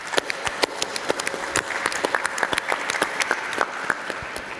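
A modest audience at a health policy conference claps, with distinct individual hand claps close by over a softer background of clapping, steady and lively throughout.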